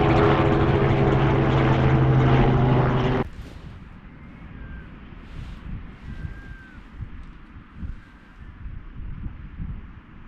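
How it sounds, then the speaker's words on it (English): A loud, steady helicopter roar near Pett Level beach on England's south coast cuts off abruptly, leaving wind buffeting and faint distant sounds. "Get to the chopper!"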